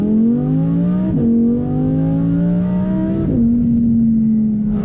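A modified Audi R8 V10 with 1016 Industries upgrades roars while driving, the engine pulling loudly through gears with clear upshifts between sustained rising drones.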